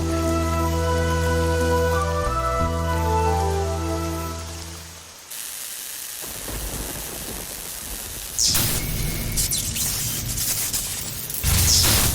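Heavy rain falls as a dense, continuous hiss that takes over after a few seconds of sustained music fades out, growing rougher and louder toward the end with no speech.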